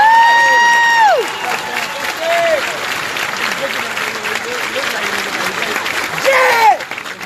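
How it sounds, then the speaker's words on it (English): An audience at a Marine Corps Recruit Depot San Diego ceremony applauds the Lima Company staff, a sustained wash of clapping with whistle-like tones at the start and again near the end, while a voice carries over it. "please join me in a round of applause for the company staff of Company L"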